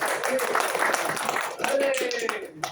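Audience clapping during a bread-baking class, a loose patter of hands with voices talking over it and a brief tonal voice near the end.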